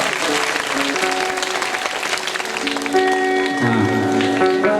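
An audience at a Hindu satsang claps in welcome for two seated saints. The applause is a dense, steady, fairly loud patter that runs throughout, with sustained musical tones rising beneath it partway through.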